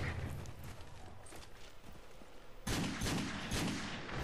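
Gunfire in a first-person shooter video game comes as a rapid run of shots over game ambience and grows abruptly louder and denser partway through, with no talking.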